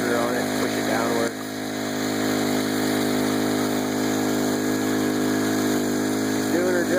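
The small engine of a 2-inch gold dredge on the Tuscarawas River runs steadily with a buzzing, even drone, while a voice talks over it throughout.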